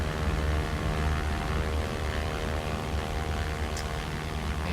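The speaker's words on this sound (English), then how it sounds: "Kind of like a short field takeoff." Small propeller airplane on a short field takeoff, a loud, steady engine drone with a strong low propeller hum and even harmonics, heard from close by without letup.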